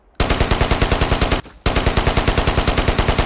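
A fixed machine gun in the video game Ghost Recon fires two sustained bursts of rapid, evenly spaced shots, loud and close, with a short gap between them.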